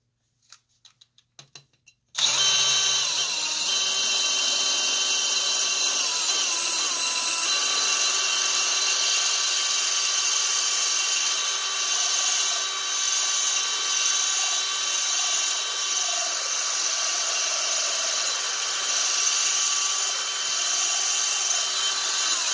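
A steady, continuous whine of a power drill boring into a glass bottle, starting abruptly after a few brief clicks and running without pause.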